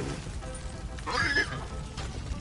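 A horse in Red Dead Online whinnies once, a short bright neigh rising out of low game ambience in the middle of the moment, moderately close, with no speech over it.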